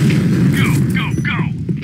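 A grenade explosion in the Point Blank shooter game, a heavy low boom that rumbles on for the whole stretch. A player's voice is heard over it.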